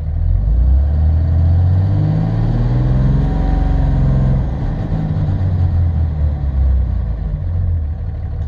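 A Cummins common rail diesel engine, suspected of failing injectors, is revved up to about 2,500 RPM and then released; a loud, close engine roar rises in pitch for about four seconds, then falls back toward idle with no talking.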